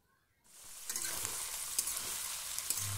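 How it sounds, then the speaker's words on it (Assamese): Duck meat fries over a high flame in a pan, a sudden loud sizzle that starts after a moment of quiet and keeps crackling steadily with sharp pops, close up and with no talking. "এনেদৰে প্ৰায় 10 মিনিটমান হাই ফ্লেমত ভাজি লৈছিলোঁ"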